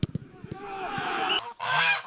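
Geese honking loudly and close, a few sharp calls followed by a longer stretch of overlapping honks, with a short gap before a final burst.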